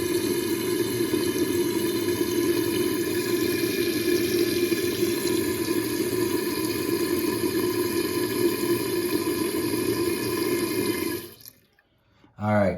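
A toilet tank refills through a newly installed fill valve, a steady close hiss and gurgle of rushing water that runs for about eleven seconds, then cuts off abruptly into near silence.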